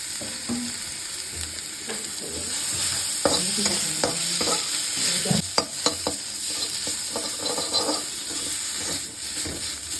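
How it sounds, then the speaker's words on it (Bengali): Spice paste of ground cumin, chili and ginger with salt, turmeric and tomato, fried and stirred in a pan for a prawn and eggplant dish: steady sizzle with repeated scraping and clinking of a spoon, close and alone. "এবার মশলাটাকে ভালো করে নেড়ে নেব।"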